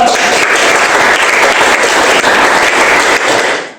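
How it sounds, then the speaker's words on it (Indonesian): Loud, steady applause from a classroom group after a student presentation, dense clapping held evenly for several seconds before fading at the end. "Tepuk tangan untuk kelompok 2."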